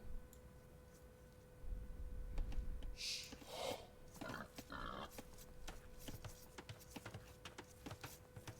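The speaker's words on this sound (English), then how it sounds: "Okay, there is the boar." A boar in the video game Age of Empires gives short grunting snorts amid quiet game sounds and faint clicks.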